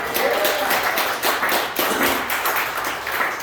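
Audience at a comedy show applauding, a close, fairly loud burst of clapping with individual claps standing out, fading slightly by the end.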